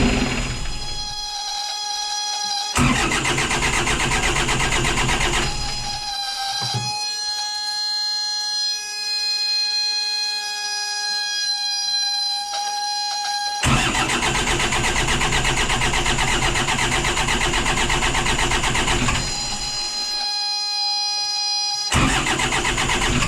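An old trawler boat's glow-plug engine, not started in ten years, cranks in several separate bursts, each a loud, rhythmic, mechanical churn, with quieter gaps in between, heard up close with no talking.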